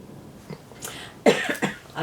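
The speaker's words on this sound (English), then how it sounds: "That made me cough." A few sharp coughs and throat-clearing bursts, close and fairly loud, with quiet pauses between them.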